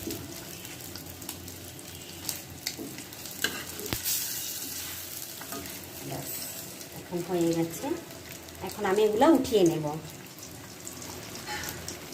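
Egg and potato cutlets fry in oil in a pan, a steady sizzle with occasional clinks and stirring, and a voice talking over the hiss.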